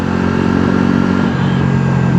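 A Bajaj Pulsar NS400Z motorcycle engine revs loud and close, holding a steady buzzing drone before the pitch shifts about halfway through, with no talk over it.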